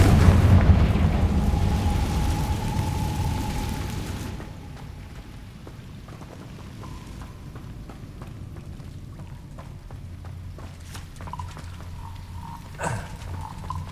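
A Confringo blasting spell explodes in the Hogwarts Legacy video game: a loud, close burst that rolls into a rumbling decay over several seconds, followed by quieter scattered crackles and a small pop near the end.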